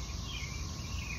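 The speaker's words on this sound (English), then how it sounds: "Cicadas are back." Cicadas buzzing outdoors after a gloomy, rainy day, a steady high-pitched droning chorus holding unbroken throughout, with low rumbling background noise underneath.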